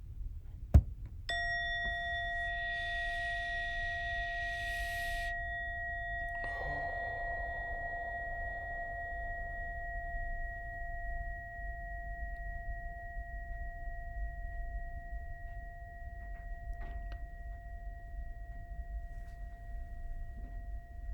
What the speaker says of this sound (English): in a moment, you will hear a bell or a chime. Listen to it as it gets quieter and quieter.